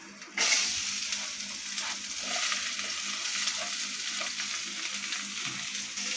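Onion frying in a pan with curry leaves and green chillies for a drumstick stir-fry, a loud steady sizzle that starts abruptly and continues with faint stirring scrapes.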